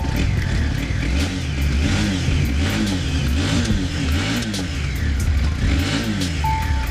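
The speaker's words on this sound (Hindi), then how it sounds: "तो NS 125 का जो प्रॉपर साउंड है वो आपको कुछ ऐसा मिलेगा।" A Bajaj Pulsar NS125 motorcycle engine revs steadily and loudly through an underbelly exhaust, with rhythmic rises and falls in pitch, close by and continuous.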